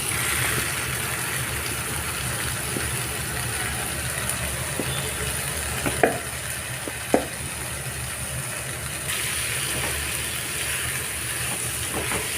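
Prawns frying in a mashed tomato masala over a medium flame, a loud, steady hiss of sizzling with a few faint clicks of utensils, alone without talk.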